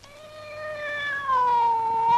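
Cat giving one long, drawn-out meow that rises in loudness and slides downward in pitch, clear and close, with no other sounds.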